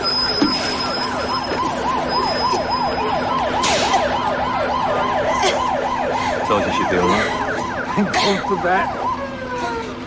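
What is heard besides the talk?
ambulance siren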